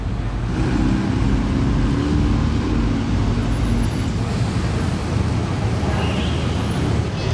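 Dense car traffic crawls through the streets of Monaco late at night during the Grand Prix, a continuous loud rumble of idling and moving engines close by, with no single vehicle standing out.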